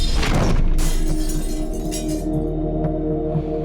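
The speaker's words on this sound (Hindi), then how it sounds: "उससे पहले कुछ कांच के टूटने की आवाज आई थी वहां से" Glass shatters in one loud crash, followed by scattered tinkling fragments over a steady low hum, with no voices.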